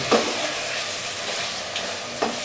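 Beef rezala cooking in a non-stick pot, frying steadily in oil with a continuous low sizzle and a couple of brief scrape-like stirring accents, close and alone without any talk.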